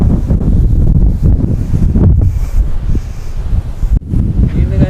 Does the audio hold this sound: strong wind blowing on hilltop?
yes